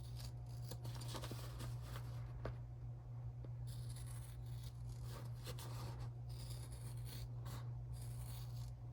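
Scissors cut through fabric for a lenticular add-on on a crossbody bag, making steady close snipping and rubbing sounds over a constant low hum.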